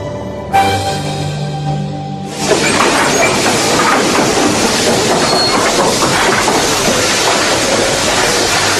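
Train sound effect in an audio drama: a running train comes in loud after a short tonal opening, then holds a dense, steady rumble and clatter to the end.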